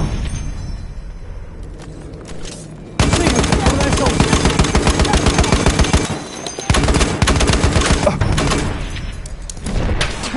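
Rapid machine gun fire in a video game battle, loud, dense bursts lasting several seconds with a brief break, then another long burst, with quieter gunfire and voices around it.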